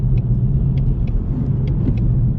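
A 2020 Ford Mustang GT with the 5.0 engine rumbles steadily from inside the car, a deep continuous drone with faint ticking clicks on top and no talking.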